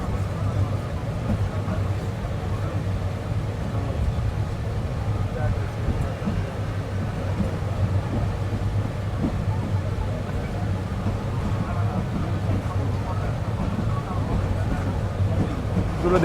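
The Cox's Bazar Express pulls out of Chittagong railway station, a dense steady rumble and roar of the moving train heard from on board, with a voice talking over it.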